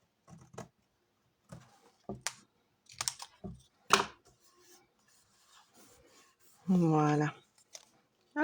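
Paper being cut with scissors for an adventure kit, heard as a few short, close snips and rustles with pauses between them while a person talks quietly.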